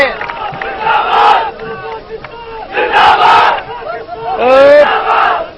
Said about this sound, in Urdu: میں آپ سے یہاں نعرے لگوانے کے لیے نہیں آیا ہوں